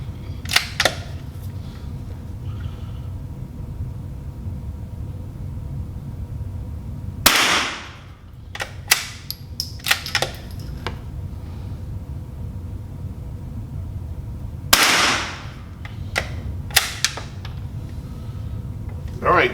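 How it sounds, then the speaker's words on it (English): A Marlin Model 80 rifle fires several sharp, loud reports outdoors, widely spaced over a quiet background, with faint mechanical clicks between shots. "that's 6 rounds went down range"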